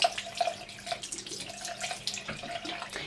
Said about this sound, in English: I'm just going to run it under some warm water just to get it nice and damp.